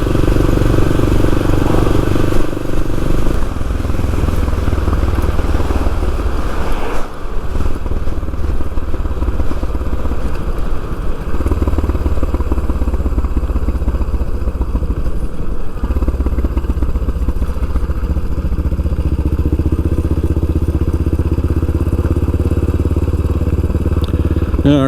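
A 1976–78 Yamaha XT500 single-cylinder motorcycle rides along a dusty Saskatchewan road, its loud, steady engine drone running continuously with wind rumble and occasional thumps and clatter, and no talk over it.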